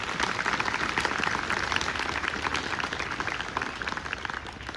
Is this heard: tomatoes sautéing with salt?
no